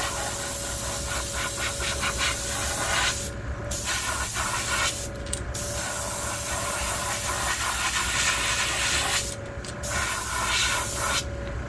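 Spray gun at light pressure, about 20 pounds, coats a vintage Storm Wiggle Wart fishing lure. Three short bursts of sharp hiss stand out over a steady background hiss and hum, close and with no talking.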